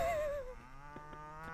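A single drawn-out cow moo from the video game RuneScape, loud and close, falling in pitch and fading after about half a second, followed by a quieter tonal game sound with faint clicks.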